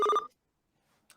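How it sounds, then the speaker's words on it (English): A telephone rings once, a short bright electronic trill up close, followed by near silence and a faint sound at the end. "I think my phone is ringing, Crabman."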